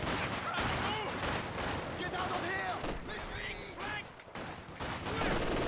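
Rapid bursts of gunfire and machine-gun fire in a Company of Heroes 2 team battle, with Soviet conscripts under fire, sustained and dense, mixed with game effects while a commentator talks over it.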